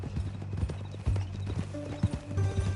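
Horse hooves clop in an uneven, steady rhythm, close by, with a brief whinny-like tone and soft music underneath, in the video game Red Dead Redemption 2.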